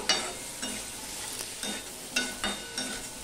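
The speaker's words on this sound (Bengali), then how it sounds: "এবার সম্পূর্ণটা মিশিয়ে নিয়ে আমি কষাতে থাকবো" Ginger paste and chopped tomato are sautéed in a pan, with sharp scraping strokes from the spoon coming in a regular rhythm over a soft background sizzle, close by.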